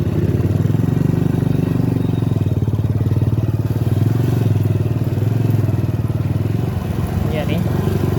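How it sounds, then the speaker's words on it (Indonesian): Small motorcycle engine putting steadily along a rough, difficult forest trail toward a waterfall, a close continuous drone with clattering bumps, while people talk over it. "Kita bawa motor kecil,"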